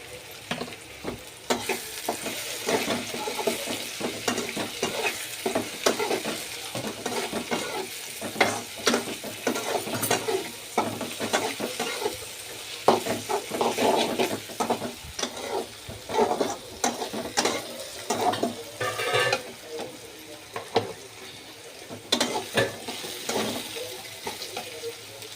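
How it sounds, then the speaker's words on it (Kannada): Chili powder fries in hot oil while a spoon stirs it steadily, giving a continuous close sizzle broken by repeated scraping and clinking strokes against the pan. "ಖಾರದ ಪುಡಿ ಎಣ್ಣೆಯಲ್ಲಿ ಬೆಂದಿದೆ ಇವಾಗ ಚೆನ್ನಾಗಿ."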